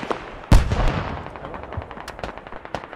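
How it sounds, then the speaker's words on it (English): Video game battle gunfire from a competitive tactical shooter match: a loud blast followed by rapid bursts of automatic fire and scattered distant shots, continuous and dense. "They're just shooting everything around him."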